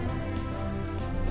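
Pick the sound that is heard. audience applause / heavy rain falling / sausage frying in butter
heavy rain falling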